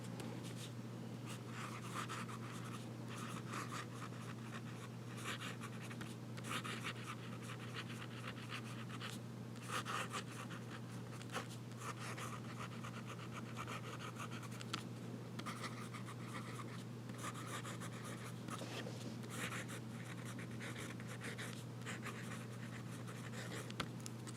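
A fountain pen loaded with Blackstone Black Stump ink writes wet S's on paper, producing faint, scratchy strokes over a steady low background hum.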